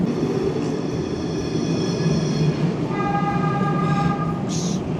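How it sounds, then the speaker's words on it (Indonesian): A train rolls past in Porto with a loud, steady rumble close by, and high whining tones from the railcars rise and shift as it goes. "ada kereta juga ternyata melintas di sini"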